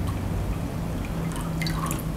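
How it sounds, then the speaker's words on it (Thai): Water pouring steadily into a glass for an iced lychee espresso, a continuous close splashing flow with a few bright drips near the end and no talking. "เราจะเอาน้ำเปล่านะคะมาใส่แก้วไว้ค่ะน้ำเปล่าเนี่ยใส่ลงมาที่5ออนซ์นะคะ"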